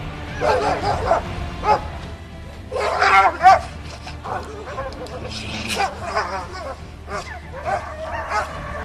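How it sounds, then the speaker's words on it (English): A dog in a fight with a polar bear gives bursts of barking, yipping and whimpering in irregular clusters, fairly close, with a voice talking in between. "this desperate and furious dog is simply tearing the poor polar bear's muzzle"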